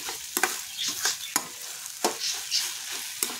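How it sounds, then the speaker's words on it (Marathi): A spoon presses and scrapes chopped onion and tomato in a sizzling pan while making egg bhurji, with repeated sharp clicks against the metal over a steady frying hiss, close and continuous. "तोपर्यंत आपण ते थोडं असं दाबून चमच्याच्या साहाय्याने असं बारीक बारीक करायचं."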